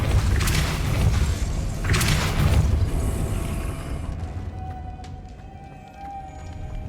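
Depulso spell cast in Hogwarts Legacy on PC, a pair of heavy thumping bursts with a whooshing rush, loud and close, followed by a fading rumble and faint magical tones.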